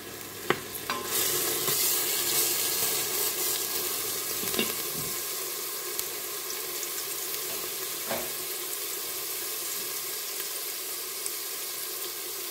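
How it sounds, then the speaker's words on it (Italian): Chopped carrot, celery and onion sautéing in oil in an Instant Pot on medium heat, giving a steady, even sizzle throughout with a few light stirring knocks near the start and middle. "Sto facendo il soffritto in modalità sauté, temperatura media"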